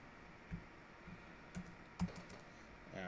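Keystrokes on a computer keyboard during a programming lesson, a few sparse, quiet taps spread out at uneven intervals over steady background noise, with no talking.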